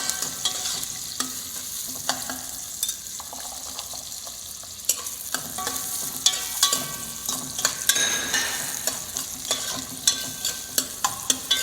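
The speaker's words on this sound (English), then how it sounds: "Then nicely saute. After onion, in goes the carrots." Onions and carrots sautéing in a pan as the base for tomato sauce, a steady close sizzle with repeated stirring scrapes and clicks, fairly quiet and continuous, no talking.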